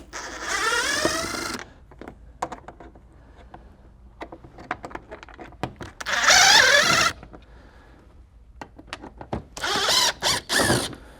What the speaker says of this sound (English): the rest of the rivet's going to come out with the drill